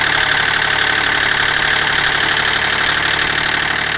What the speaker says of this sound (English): That's about the loudest you're going to hear out of the engine.